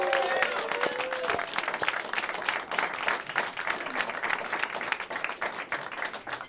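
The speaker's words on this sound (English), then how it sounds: "Give a round of applause." A talk show studio audience gives a round of applause, a thick continuous patter of clapping that thins slightly toward the end, with a brief tonal sound near the start.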